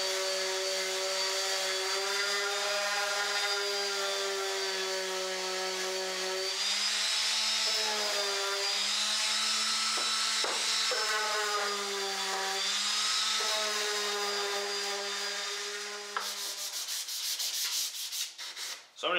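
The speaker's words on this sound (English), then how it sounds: "I'm just taking a piece of sandpaper and just going over all the edges" Sandpaper rubbing along the edges of a small wooden mail shelf, a steady close-up scratchy rasp with a faint tonal whine, continuing almost unbroken for the whole stretch with a few brief changes in stroke near the end.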